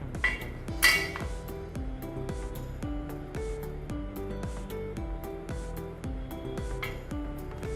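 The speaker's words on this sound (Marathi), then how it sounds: "आणि आता आपल्याला याची सुरीने बिस्किटं करून घ्यायची." A knife cuts rolled wheat flour biscuit dough on a hard surface, producing a steady series of close, ringing taps and clinks in an even rhythm.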